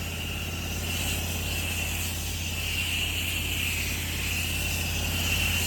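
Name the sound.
pressure washer engine idling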